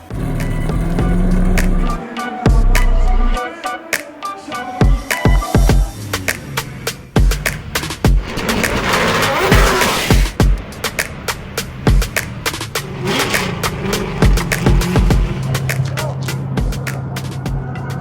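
Drift cars drifting at Drift Masters Poland, loud engine roar and rapid rattling bursts rising and falling close by, with a broad noisy wash of tires and crowd in the middle and some talking around it.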